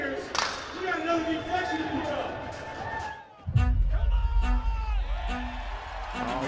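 A crowd at an ultimate frisbee game starts cheering loudly partway through, with a broad roar of whoops and claps following excited commentary.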